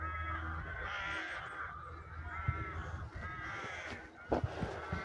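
Crows caw repeatedly outdoors on a morning walk, harsh calls rising and falling over faint background noise at moderate distance.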